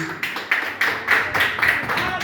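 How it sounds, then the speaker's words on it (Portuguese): Church congregation applauding together, a burst of clapping with rhythmic peaks over a couple of seconds, close and fairly loud, with voices mixed in. "Dá uma salva de palmas bem forte para Jesus."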